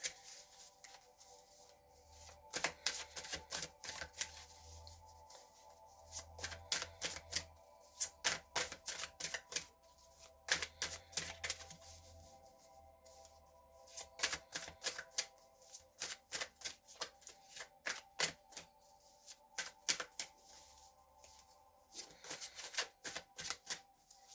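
Tarot cards are shuffled close by in repeated bursts of quick riffling flutters, separated by short pauses, quiet and alone under a faint steady hum.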